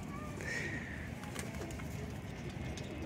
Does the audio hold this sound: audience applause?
no